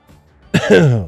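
A single person's short, loud cough close to the microphone, a harsh throaty burst after a brief quiet moment.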